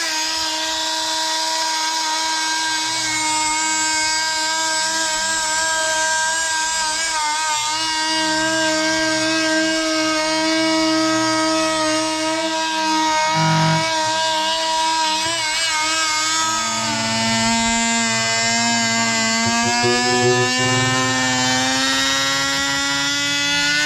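A power saw with a loosening blade cuts through countertop material, giving a loud, continuous whining drone whose pitch wavers and climbs, with no talking over it.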